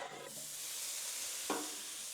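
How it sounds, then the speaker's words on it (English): Bacon sizzles on a Blackstone griddle, a steady faint hiss of frying fat with a brief louder crackle partway through, no voices. "Don't you just love the sound of that sizzle?"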